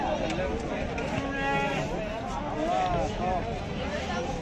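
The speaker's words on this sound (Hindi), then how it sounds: "और ये देखिए बकरी" Goats bleat at the Tonk goat market, several wavering calls amid crowd chatter and someone talking nearby.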